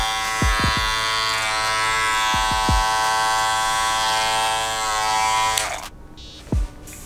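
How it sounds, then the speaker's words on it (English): Masters metal barber clipper running with a loud, steady high-pitched buzzing motor whine, close and continuous, with a few handling clicks before it switches off near the end. "You can hear the motor actually like turning inside the clipper."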